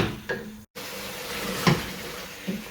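Oil, potatoes and coriander sizzling in a pot of meat and potato curry (aloo gosht) over high heat, a steady broadband crackle with a short break and a couple of brief clinks or stirring knocks.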